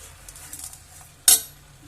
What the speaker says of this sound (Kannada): ಇದನ್ನ ಹಾಕೊಂಡು ಇದೇ ರೀತಿ ಕ್ಲೀನ್ ಆಗಿ ಮಿಕ್ಸ್ ಮಾಡ್ಕೊಂಡು ಫ್ರೈ ಮಾಡ್ಕೋಬೇಕೀಗ.